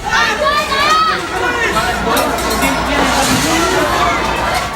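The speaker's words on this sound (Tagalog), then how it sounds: "Sa isang amateur video, maririnig ang sigawan ng mga tao." Panicked shouting and screaming from a crowd of people inside Clark International Airport during an earthquake, a dense continuous babble of raised voices, loud and close, with shrill cries rising in the first second.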